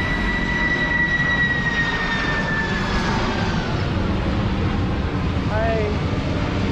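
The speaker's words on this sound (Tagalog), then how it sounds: "Ay palanding na naman na aeroplano eh." An airplane approaches to land, its broad engine roar steady and fairly loud throughout with a falling whine; people talk faintly nearby.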